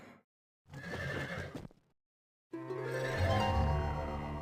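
A horse in the video game Heroes 3 gives two loud, close whinnies separated by a brief silence, the second longer and fuller, with no voices over them.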